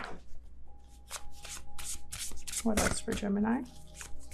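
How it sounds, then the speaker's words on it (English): Tarot cards shuffled by hand in a few quick riffling bursts, close and crisp, while someone talks over part of it. "I'm trying to be careful as I shuffle my cards"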